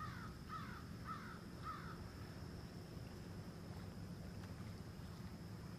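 Crows caw four times in a short rhythmic series, distant and faint, over steady wind and outdoor ambience by a lake, followed by several seconds of quiet background noise.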